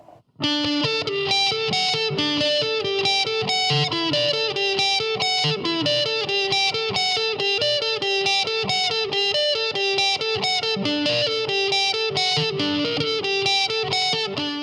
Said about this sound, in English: this particular guitar on the neck pickup on the humbucker configuration, I believe sounds great for lead tones